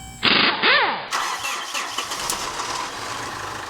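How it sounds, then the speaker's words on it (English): A Fuso FG truck's engine cranks over with the starter whirring loudly at close range, a strained rising whine that breaks into a rough, uneven churning without catching. "cranked the engine over"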